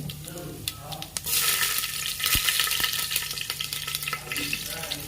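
Urad dal crackles and sizzles in hot oil during tempering, with a steady frying hiss and scattered sharp pops, close and fairly loud.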